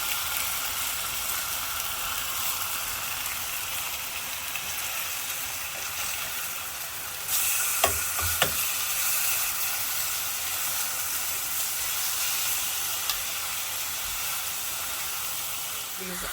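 Chicken pieces searing in a pan for creamy chipotle chicken, giving a steady, fairly loud sizzling hiss throughout, with a couple of brief clinks partway through.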